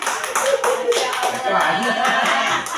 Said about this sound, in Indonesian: tepuk tangan dulu untuk menjelaskan